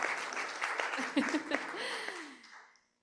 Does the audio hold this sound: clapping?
yes